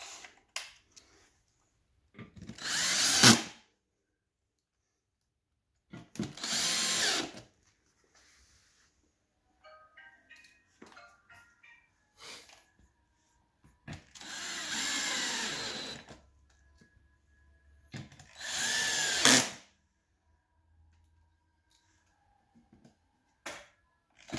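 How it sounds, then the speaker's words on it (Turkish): A power screwdriver assembling a folding work desk, several separate whirring bursts of a few seconds each with quiet pauses between, plus faint clicks and handling noises. "Delikleri işaretliyoruz ve tornavida ile kurulacak duruma getiriyoruz."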